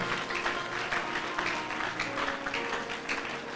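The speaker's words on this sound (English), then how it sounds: "Clap your hands and turn into prayer." Church congregation clapping hands together during prayer, a dense, continuous crowd applause of many hands that stays loud and even throughout.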